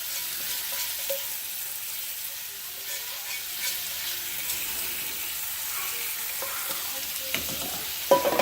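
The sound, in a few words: paneer and capsicum sizzling and stirred in a pan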